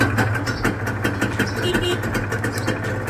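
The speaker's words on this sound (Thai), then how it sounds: "ติสสตาร์ตติดง่ายนะครับ" Honda NSR two-stroke motorcycle idling after a kick start, a steady buzzing engine note with rapid pulsing that runs close and continuous throughout.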